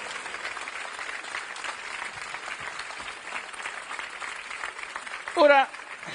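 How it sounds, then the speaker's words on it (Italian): Theatre audience at Venice's Teatro Goldoni applauding the stage technicians, a steady faint wash of clapping from a crowd, with a brief louder burst near the end. "Poi un applauso a tutti i tecnici SG, servizi teatrali, e tutti i tecnici del Teatro Goldoni"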